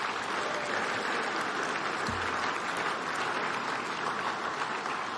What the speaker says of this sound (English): Let's have a round of applause for all of our winners so far.